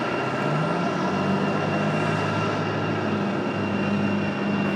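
An arriving airliner at Raleigh-Durham airport roars steadily and loudly, a broad continuous jet engine drone with a slowly shifting whine, no voices.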